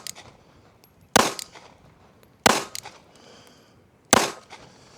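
Three loud, sharp pistol shots fire .380 ammo at a target, spaced a second or more apart, each a crisp crack with a short decay and no voices.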